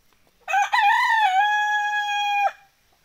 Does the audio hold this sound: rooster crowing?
yes